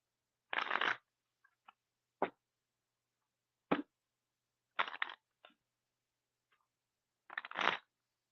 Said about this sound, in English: Quick shuffle it there.